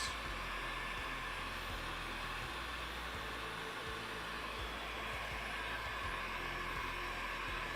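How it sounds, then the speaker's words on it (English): Blow dryer drying freshly dyed leather scales at a leathercraft bench, a steady airy whoosh with a low motor hum running continuously at moderate level, no talking. "Now glorious drying of the scales."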